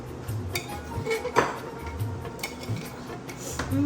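A spoon clinks and scrapes against a pot while homemade beef curry is mixed. The knocks are close and irregular over a low background hum.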